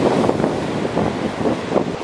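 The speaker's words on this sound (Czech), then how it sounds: "Teď to vypadá na teda pěkně rozbouřený moře." Rough ocean waves off the Azores churn under strong wind, a loud, continuous broad roar with slow swelling surges as breakers roll in, heard alone with no voices.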